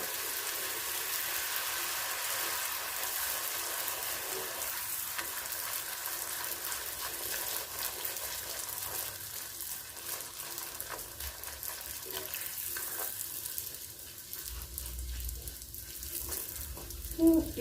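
Puri deep-frying in hot oil, a steady broadband sizzle running throughout at moderate level, with occasional louder bubbling bursts and a low rumble toward the end; no talking.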